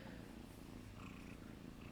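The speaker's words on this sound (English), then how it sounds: "If you hear some purring, I got a new kitten" Close, steady purring from a new kitten forms a continuous low, rhythmic rumble from start to end, with no talking.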